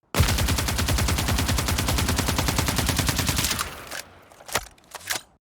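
Remastered weapon sound effect mix of automatic gunfire, a loud rapid burst of shots lasting several seconds, followed by a ringing tail and a few separate mechanical clicks and clanks.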